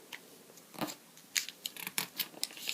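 Paper is folded and creased sharply for a traditional four-pointed origami star, with close, irregular crinkles, rustles and crisp creasing snaps in short bursts and no talking.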